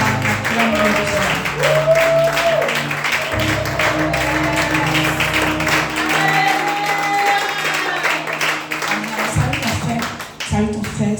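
Church congregation applauding and cheering the Lord at an evening service, steady loud clapping throughout, with a man preaching over it and music underneath.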